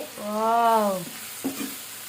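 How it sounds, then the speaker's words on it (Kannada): Soya chunk kebabs fry in hot oil with a steady, close sizzle. A short tonal, voice-like whine rises over the frying early on, and a brief clatter follows partway through. "ನೋಡು, ಈಗ ಫ್ರೈ ಆಯ್ತು ಎಣ್ಣೆಯಲ್ಲಿ"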